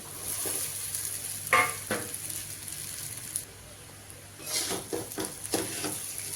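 Overnight-soaked sabudana stirred into potatoes frying in a pan, a faint sizzle under a few soft scrapes and clatters of the spoon, quiet and close with no talking.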